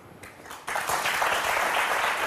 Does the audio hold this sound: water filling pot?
no